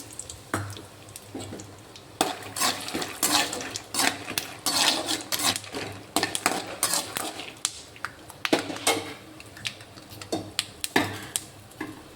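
Peanuts roast with cumin seeds in a pan, stirred with a utensil. Close clinks and scraping rattles come in irregular bursts over a faint low sizzle, with no talk.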